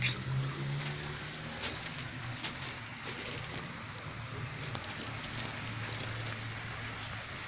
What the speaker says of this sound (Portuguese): Vem chuva de novo.